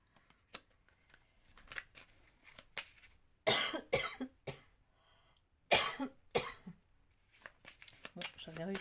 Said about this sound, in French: Bon, j'avais réussi à pas tousser.